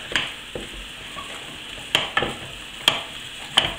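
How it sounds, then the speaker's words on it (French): A spoon scrapes and knocks in a saucepan as flour is worked into butter and water to make gougères dough, with a soft sizzle underneath and several sharp taps spaced through, no talking. "je tourne énergiquement de façon à incorporer la farine à mon beurre et à mon eau"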